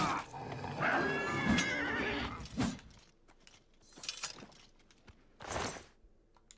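A horse in Oblivion Remastered gives a long, wavering neigh, then hooves clop in a few separate bursts amid quieter gaps, fairly close and clear.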